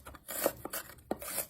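Onions being chopped, a few scraping, rasping knife strokes on a board in quick irregular succession, close and fairly quiet.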